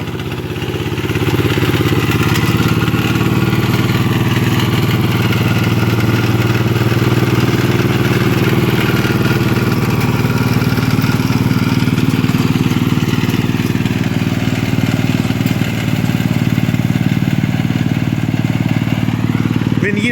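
A tractor engine runs at a steady loud drone while its implement cuts through hard, asphalt-like ground, close and continuous throughout with no clear pauses.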